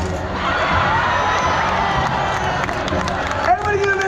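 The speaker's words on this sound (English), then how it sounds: "Everybody give him a big round of applause." A large outdoor stunt-show crowd at the Waterworld show, Universal Studios Hollywood, cheers, shouts and claps continuously in a dense roar, with children's shrieks standing out; a brief whistle-like rising tone cuts in near the end.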